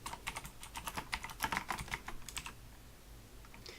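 Someone types code on a computer keyboard in a fast, irregular run of crisp, close keystrokes that taper off into near silence for the last second.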